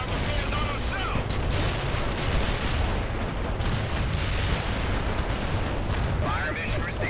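An artillery fire mission pounds a target in World in Conflict: a dense, continuous roar of booming impacts and rattling gunfire, loud and unbroken throughout, with faint voices buried in the din.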